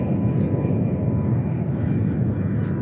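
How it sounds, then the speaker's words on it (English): An Air India Boeing 777 taxis at JFK airport toward the runway, its engines giving a steady, loud, broad roar throughout with no breaks. "We also have Air India 777 making its way to Mumbai."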